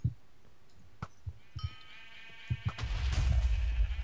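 Sheep bleating in the Minecraft minigame SheepWars: a bleat with wavering tones over scattered game thumps, then a loud rumbling burst at the end.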